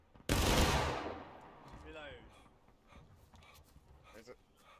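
A company fires a musket volley in the video game War of Rights, one sudden loud crack and roar of many muskets together that decays into rolling echoes, while a voice talks quietly afterward.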